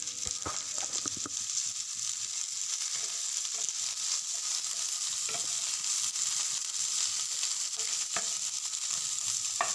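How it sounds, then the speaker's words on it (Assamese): Onions and ginger leaves fry in a pan for an Assamese small-fish recipe, giving a steady, close hiss of sizzling with occasional stirring clicks, no voices. "এতিয়া আদাৰ পাতখিনিও দি দিছোঁ"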